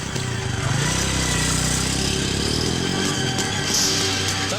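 Splendor motorcycle engine revving and pulling away, a loud, continuous mid-pitched drone whose pitch rises and shifts as it rides off.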